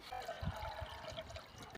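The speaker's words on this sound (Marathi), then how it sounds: "तर पाणी टाकून घेऊया अजून थोडंसं." Faint splashing and trickling as water is poured into a pot of moringa (drumstick) vegetable curry, low and brief.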